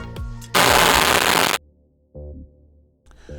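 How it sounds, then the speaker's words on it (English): Radio static bursts from a comlink tuning toward a music station: a loud, dense hiss lasting about a second, then a brief buzzy tone and more crackle, alone without talk. "As he starts to connect to the Golden City music station, the sound of static fills the air."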